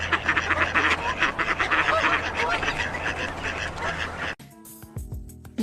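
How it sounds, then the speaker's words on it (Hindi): A duck quacks repeatedly in loud, close, rhythmic bursts for several seconds, then cuts off abruptly into quieter, different sound. "ये है बत्तख, जिसको हम इंग्लिश में बोलते हैं"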